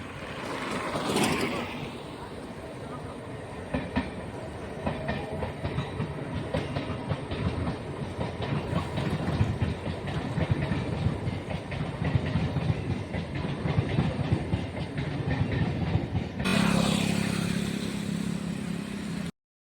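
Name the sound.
train passing on railway tracks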